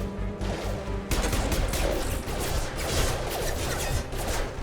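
Rapid bursts of gunfire in the Mass Effect 2 video game, dense crackling shots layered over a loud, busy battle din, with no talking.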